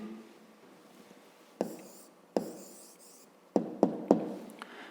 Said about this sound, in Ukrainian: Ну що ж, записуємо тоді відповідь.